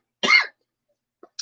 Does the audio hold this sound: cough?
yes